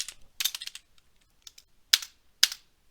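Keys tapped on a computer keyboard while a text command is entered for a browser game, in a quick cluster of clicks followed by two louder separate keystrokes, close and dry with no voices.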